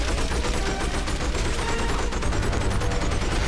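Sustained gunfire in the 007 From Russia With Love video game while shooting at a garage, a dense, rapid burst of shots that runs continuously at a steady loud level.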